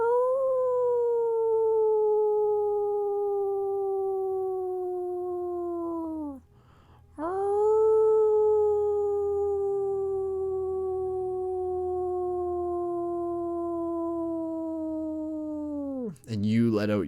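Human voices imitate a wolf howl in a meditation setting, two long sustained tonal howls, each gliding gently downward and ending in a falling drop, with a short pause between them and a brief third cry beginning at the end.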